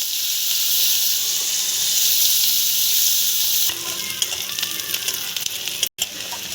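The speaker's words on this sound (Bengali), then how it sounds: "এই তেলটাতে আমি পেঁয়াজটা দিয়ে দেবো।" Onion dropped into hot oil in a pan, giving a loud, steady sizzle. Halfway through it shifts to a busier crackle with stirring scrapes, and there are no voices.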